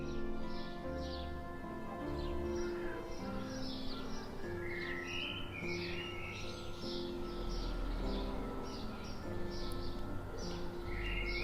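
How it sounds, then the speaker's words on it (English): Birds chirp and tweet repeatedly throughout, fairly faint, over a steady low tonal background hum. "You got lots of birds nearby?"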